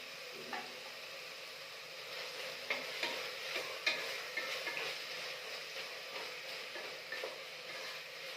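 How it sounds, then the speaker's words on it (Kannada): Tomatoes frying in a pan with fenugreek leaves, a soft continuous sizzle with occasional stirring scrapes and clicks of a utensil against the pan, steady and close with no talking. "ಈಗ ಇದಕ್ಕೇನೆ ಟೊಮೊಟೊ ಹಾಕ್ತಾ ಇದ್ದೀನಿ"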